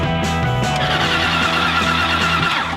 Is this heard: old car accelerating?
yes